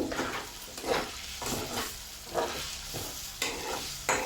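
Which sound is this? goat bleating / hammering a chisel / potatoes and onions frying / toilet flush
potatoes and onions frying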